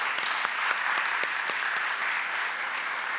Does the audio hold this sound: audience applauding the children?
yes